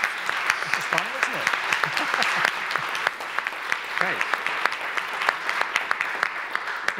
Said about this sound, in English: A round of applause, please, for Lena Hoven's reading.